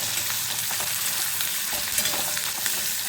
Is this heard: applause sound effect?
no